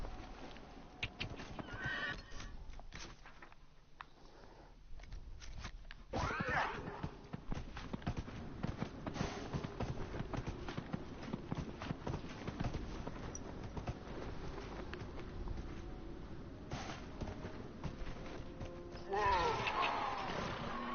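A horse in the game Dragon Age Inquisition neighs and clops its hooves, the whinny rising near the start and again at the end over steady hoofbeats and game ambience, with no talk.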